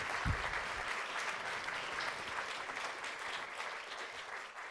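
An audience at a TEDx talk at Arizona State University applauds in a steady, even wash of clapping that holds for several seconds with no speech over it.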